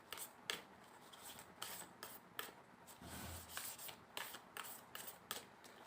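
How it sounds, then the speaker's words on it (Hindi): Tarot cards being shuffled by hand, a faint, close papery riffling and rubbing that repeats in short bursts over a quiet background. "इन कार्ड्स को शफल करना बहुत मुश्किल है"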